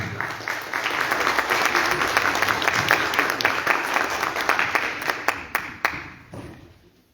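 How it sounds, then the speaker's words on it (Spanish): Audience applause at a university communication school event welcomes a speaker, a dense, steady wash of many clapping hands, loud and close, tapering off near the end. "a quien también recibimos por favor con fuertes aplausos"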